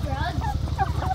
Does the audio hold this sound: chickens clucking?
yes